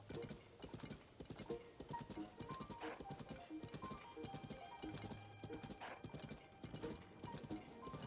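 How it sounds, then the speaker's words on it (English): Steady clip-clop of a ridden horse trotting in a regular rhythm in the video game Hyrulean Artificer Simulator, with a brief whinny partway through and ambient game background. "I'm on a horse named Horse."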